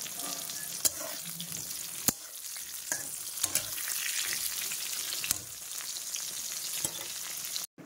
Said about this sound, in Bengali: এখানে পটল ভাজা করছি